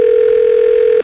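A steady telephone dial tone sounds loud and unbroken as a call is placed, holding one pitch for about a second before cutting off abruptly.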